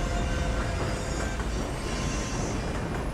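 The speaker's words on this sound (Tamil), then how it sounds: "ஓ, நம்ம ட்ரெயின் கிளம்பிருச்சுங்க அங்கேருந்து." A train pulls away in the Little Nightmares II video game, a steady, loud rolling rumble with metallic clatter and a faint squeal, heard alone without talking.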